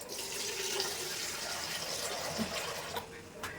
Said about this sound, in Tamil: அந்த வாட்டரை வந்து இப்போ இந்த சிக்கனுக்குள்ளே ஊற்ற போகிறேன்